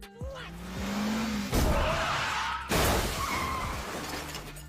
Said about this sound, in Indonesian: Kang melihatnya dan langsung menabrak mobil yang dikendarai oleh Jang